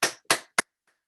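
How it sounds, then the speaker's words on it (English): Three sharp claps from a single person in an online meeting, applauding Mary. The claps are evenly spaced and close to the microphone, followed by a faint trailing tap and then silence. "Can we have a round of applause for Mary,"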